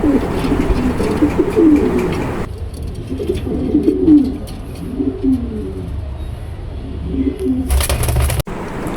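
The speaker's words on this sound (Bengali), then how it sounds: "দেখেন নরটা কি সুন্দর করে ডাকতেছে আর দেখেন একদম সুস্থ কবুতর" A male pigeon at a Bangladeshi pigeon seller's coos in repeated rolling phrases, close and fairly loud, over steady background hum, with a sharp broadband rustle near the end.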